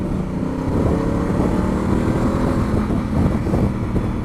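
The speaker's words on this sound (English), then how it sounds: "Just listen to what the exhaust does." A steady, throaty Honda CRF1000 Africa Twin motorcycle exhaust drones continuously at close range, a deep rumble holding even without revving.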